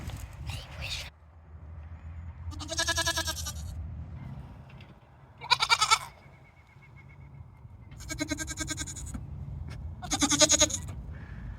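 Female goats in heat bleat loudly on a homestead, four or five long, wavering calls spaced a few seconds apart over low background rumble, with a voice talking briefly between them.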